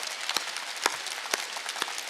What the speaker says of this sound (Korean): 박수 좀 쳐.